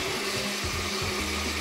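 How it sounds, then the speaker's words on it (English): A blender purees habaneros and bananas for hot sauce, giving a steady, loud, close whirring drone across the short stretch. "So now we have our ingredients in the blender"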